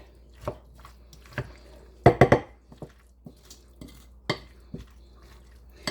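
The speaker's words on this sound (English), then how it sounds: "I'm going to mix in that dill seed." Canned potato salad being mixed in a bowl with dill seed and ranch, heard as scattered soft scrapes and wet clinks of a spoon against the dish, with a brief cluster of louder knocks midway.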